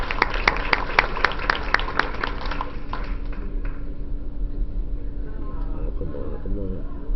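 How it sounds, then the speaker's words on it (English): Audience at a Board of Education meeting claps in a quick, loud burst that thins and fades within a few seconds, heard over steady room noise. "give her a round of applause for keeping this real."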